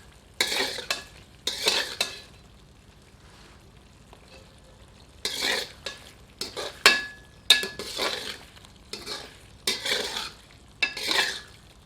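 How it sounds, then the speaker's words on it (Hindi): A ladle stirs chicken curry in a pot in several separate bursts of scraping and sizzling, with metallic clinks between the strokes and quiet pauses in between. "एक बार अच्छी तरह करछी चलाते हैं।"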